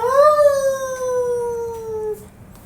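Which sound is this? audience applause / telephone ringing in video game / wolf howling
wolf howling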